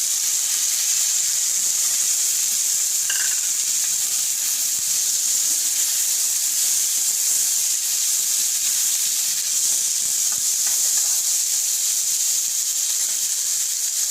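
Tomatoes hit a hot pan of cumin and onion for a stuffed capsicum curry, giving a steady, loud, hissing sizzle that holds evenly from start to finish with no voices over it.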